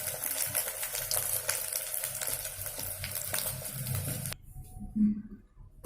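Fish frying in a pan for a Bengali-style fish bread sandwich gives a steady, close sizzle for about four seconds, then cuts off abruptly, leaving near silence with a faint low bump.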